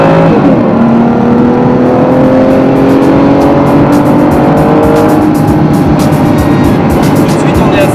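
An Aston Martin Rapide accelerates hard on the road to overtake a van, its engine note climbing steadily in pitch, loud and close from start to finish, with some speech underneath.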